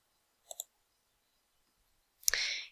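A computer mouse gives a quick double click while selecting a folder in software, then a louder click followed by a brief burst of rustling noise, in an otherwise quiet room.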